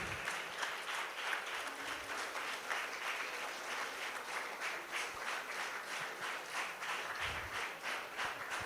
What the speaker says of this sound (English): And don't you want to clap for everybody on the dais who have been here from morning?